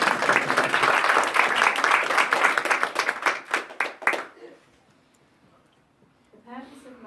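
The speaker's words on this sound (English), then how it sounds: "Round of applause." Guests at a wedding ceremony give a round of applause, steady clapping near and loud that fades after about four seconds, followed by a quiet pause and then a person starting to speak.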